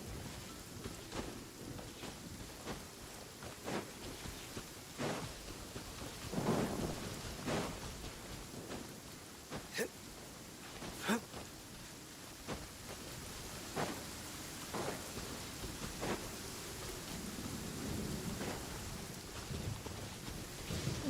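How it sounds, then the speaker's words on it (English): Continuous rain patters steadily in a video game while low thunder rumbles now and then, with scattered sharp drips and cracks over a constant wash. "It's raining again."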